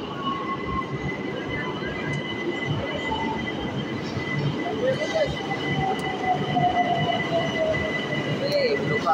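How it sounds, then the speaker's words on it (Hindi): A Tehran metro train rumbles into the station at night with a steady, loud roar and a faint wheel squeal rising over the platform noise. "तो अभी मेट्रो का वेट कर रहे हैं। हर 5-10 मिनट के बाद मेट्रो आती है।"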